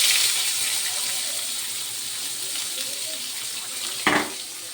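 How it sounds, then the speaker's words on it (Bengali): Chopped onion hisses in hot oil tempered with cumin seeds, a steady, close sizzle that holds throughout and ends with a brief clatter near the end, with no voice. "পেঁয়াজটাকে ভালো করে ভেজে নেবো লাল লাল হয়ে গেল"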